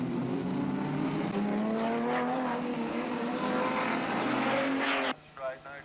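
A 1990 Audi Quattro and other race cars charge through Queenstown's streets in a classic street race, engines droning loud and steady with rising revs, then cutting off abruptly near the end.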